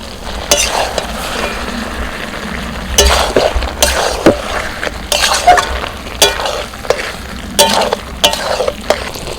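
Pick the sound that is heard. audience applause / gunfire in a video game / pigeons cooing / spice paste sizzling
spice paste sizzling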